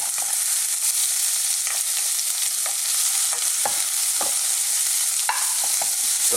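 Onions, galangal, ginger, garlic and lemongrass fry for a Thai pork curry, giving a steady close sizzle with scattered scraping stirs and small pops and no talk.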